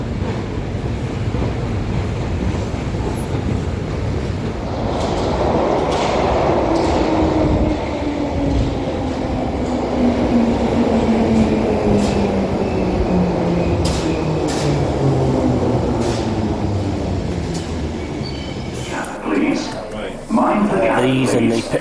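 A London Underground Bakerloo line train rumbles and roars steadily along the tracks, its pitch sliding as it moves, with brief clanks and a door-like hiss near the end.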